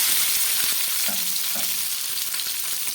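Tomato frying in hot oil with a little cumin tempering for a pomfret fish curry, giving a steady close sizzle with a few soft stirring knocks and no talking.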